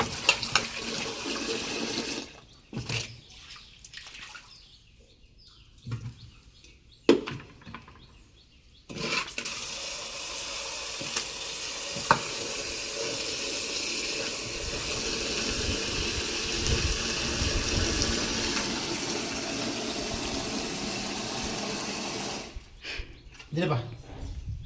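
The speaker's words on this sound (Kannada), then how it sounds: "ಕ್ಲೀನಾಗಿ ಈ ಥರ ತೊಳಿಬೇಕು" Sweet corn being rinsed under a running kitchen tap, a steady gush of water splashing for long stretches with brief pauses, while a person talks nearby.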